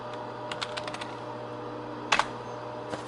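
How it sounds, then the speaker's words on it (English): Keystrokes on a computer keyboard while an admin password is entered, a few light scattered taps followed by a short louder burst of clicks and one last tap, close and quiet, no talking. "so I'll just type that in."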